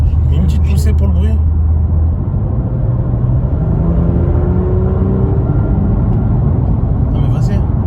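A BMW M2 Competition engine rumbles loudly up close while drifting, its pitch climbing as it revs, with voices talking over the constant drone.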